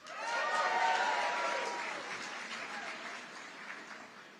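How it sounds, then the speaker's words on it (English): Audience applause and cheering at a political rally in Las Vegas, a dense, sustained wash of clapping from a large crowd that swells early and then slowly tapers off, with no speech over it. "Give yourselves a hand."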